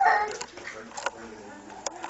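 A dog whimpers and yelps softly in short, high cries close by, while people talk over and around it indoors.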